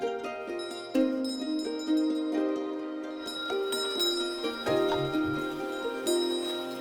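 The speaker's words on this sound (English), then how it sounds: "I have a Tibetan bell which gives them direction." Tibetan bell struck repeatedly while leading a silent hike toward mountain caves, sustained metallic ringing tones layered and overlapping, fairly loud and close, with fresh strikes roughly every second and no talking.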